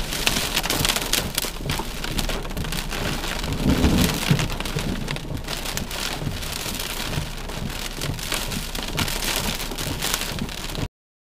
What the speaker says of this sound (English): That's the rain and hail falling.